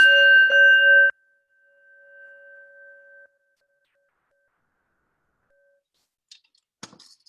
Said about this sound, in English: I'll start with the bell.